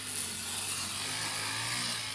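A grass cutter engine drones steadily in a rice field, a continuous buzzing whine heard from some distance without pause, with no talking over it.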